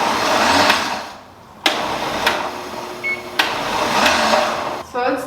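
A blender chops vegetables into a coarse, not-too-smooth mix, its motor whirring loudly in bursts that stop and restart with sharp cuts, while a voice talks over it.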